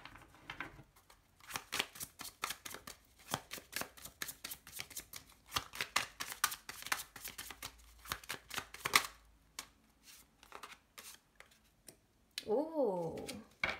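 Tarot cards that scattered everywhere are handled and gathered up, a quiet busy run of soft slaps, clicks and rustles, followed by a brief stretch of speech at the end.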